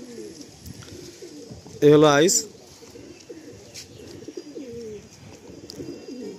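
A pigeon at a Kolkata pigeon sale gives one loud, close burst of cooing lasting about half a second, standing out over quieter background bird calls while someone talks before and after.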